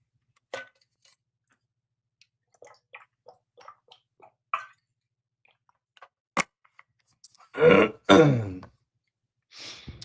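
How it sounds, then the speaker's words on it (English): A man clears his throat a few times in short, rough bursts, the loudest two close together near the end, with quiet shuffling and small clicks between them and no talking. "Sorry for clearing my throat so much"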